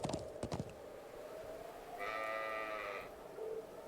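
Sheep bleat in a video game, a few quiet calls heard close, including one drawn-out tonal bleat that sits between softer scattered sounds.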